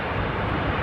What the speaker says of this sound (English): the Brussels flight on its way